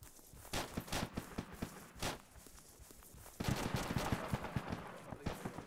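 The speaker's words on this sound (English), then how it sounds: "Shots coming in from southwest." Gunfire in Arma 2 during an assault on a compound: sharp, irregular shots crack out, some isolated and others in a denser burst later on, with fast footstep-like patter running beneath the shots.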